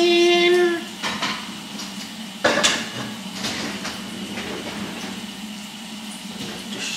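Dishes clatter as they are loaded into a dishwasher in a home kitchen: irregular clinks of plates and cutlery close by, with one louder clack midway and steady rattling throughout, no talking.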